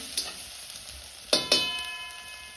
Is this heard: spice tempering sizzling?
yes